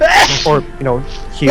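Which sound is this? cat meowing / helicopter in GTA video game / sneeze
sneeze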